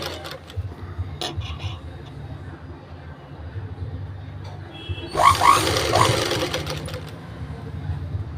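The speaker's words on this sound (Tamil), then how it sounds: "கழுத்து பீஸ் எப்போவுமே மெதுவாக தான் தைக்கணும்." A sewing machine slowly stitching a neck piece of a garment, a soft steady mechanical whir with a brief louder burst of stitching midway, close by and with no one talking.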